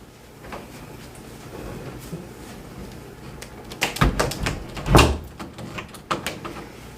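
A door closes onto a resistance band anchor, with soft rustling followed by a few sharp knocks and a firm thud near the end.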